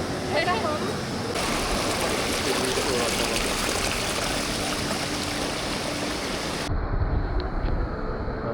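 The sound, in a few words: waterfall stream at Davis Creek, Cairns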